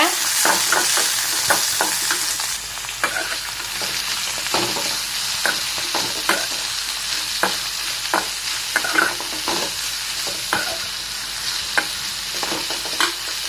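Steady crackling sizzle of ivy gourd frying in hot oil, with repeated scraping stirs clicking against the pan throughout.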